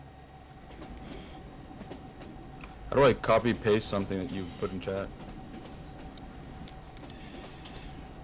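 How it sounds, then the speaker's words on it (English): A train rolling along in the video game Foxhole, with a short burst of rhythmic rail clacks and wheel squeal midway, under quiet background hum while someone talks over it. "This is my first time driving a train too."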